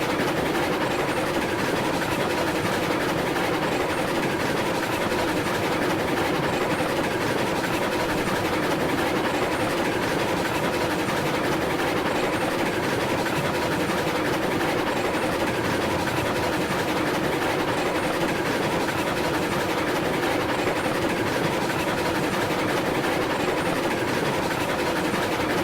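A train in the video game Railroads Online climbs a winding line around a horseshoe curve, giving a continuous, steady rolling rumble with a rhythmic wheel clatter and a low engine drone throughout, with no speech.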